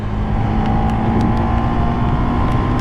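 A KTM Super Duke 1290 GT motorcycle engine runs steadily and loudly up close, a constant droning growl with faint clicks as a gear shift happens.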